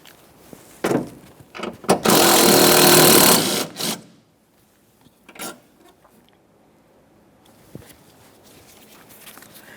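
Tool work on the 10mm mounting bolts of a Toyota Sienna wiper motor, starting with a few sharp clicks, then a loud two-second burst of rattling powered driving, followed by scattered knocks and quieter handling.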